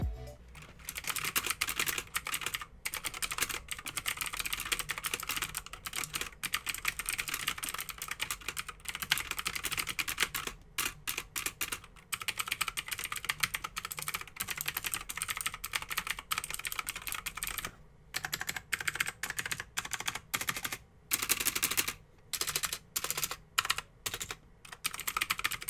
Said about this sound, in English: Here's a typing test for you to understand how poor this keyboard sounds.